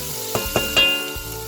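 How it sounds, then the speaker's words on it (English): Butter sizzles in a pot for Haitian pigeon peas and rice: a close, even frying hiss broken by a few short crackling bursts, with no talking. "will add some butter"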